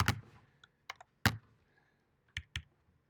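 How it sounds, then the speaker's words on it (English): Fingers tap a few scattered keys on an Apple Butterfly 2 laptop keyboard, giving sharp, shallow clicks in irregular ones and twos, close and isolated in a quiet room. "This is Apple's new, whatever they call it, the Butterfly 2 keyboard or something."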